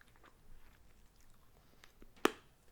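A crunchy Japanese dagashi snack is chewed close up, with faint quiet crunching and one sharp, loud crunch near the end.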